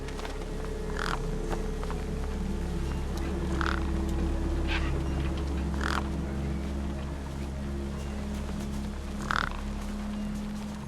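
Crows in the game Beyond a Steel Sky caw in short, spaced bursts, about six harsh calls over a steady low ambient drone.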